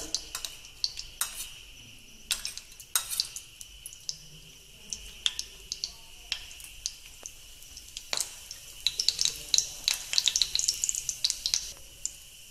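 Faint, sparse crackling and popping of seeds in hot oil, irregular pops growing busier toward the end, with a steady high hiss underneath.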